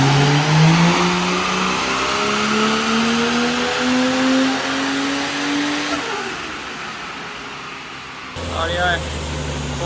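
A turbocharged Barra-engined Ford Falcon ute revs hard on a dyno, its engine note climbing steadily through the gears, then cutting off abruptly, leaving loud fan and room roar behind it.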